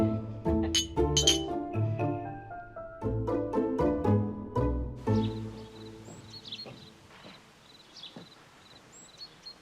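Glasses clink together in a toast at a table, a quick cluster of bright ringing chinks. Fainter tinkling and background sounds follow.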